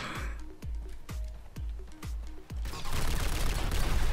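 Gunfire from a sprayed weapon in the video game Modern Warfare 3: about six sharp, evenly spaced shots with booming low thumps, followed by a dense, continuous roar of rapid fire at the end.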